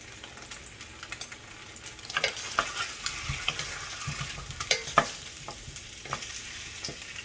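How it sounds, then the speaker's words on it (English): Rice noodles stir-fried in a wok with shrimp and vegetables give a steady close sizzle, broken by scattered scraping clatters of the spatula tossing and stirring, with no talking. "toss a little bit, stir a little bit, the noodle eventually will kind of like break apart"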